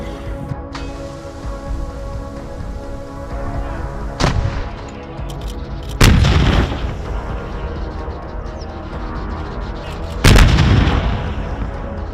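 Artillery strikes blow up a Russian BMT-2 tank hiding in a forest: three heavy booming blasts at intervals over a constant rumbling battlefield background.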